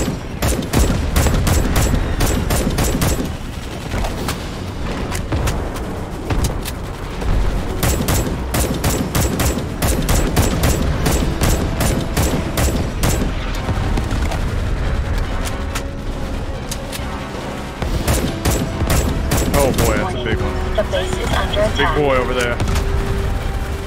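Dense, loud gunfire in the Starship Troopers: Extermination video game, with rapid bursts and booms continuing almost without pause while voices talk over the action.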